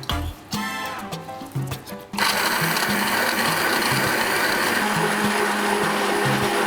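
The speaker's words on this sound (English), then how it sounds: "now we're going to take our stick blender and make it all nice and smooth." A stick blender pureeing sauce for beef lasagne whirs into a loud, steady buzzing drone after a couple of seconds of quieter clatter and stirring, running continuously to the end.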